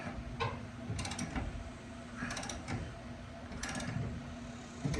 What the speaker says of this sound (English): Alright, let's try the ratchet again.